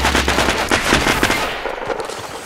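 Rapid bursts of automatic gunfire from the shooter video game Aliens n' Guns, loud and dense for about a second and a half, then thinning into sparser, quieter shots.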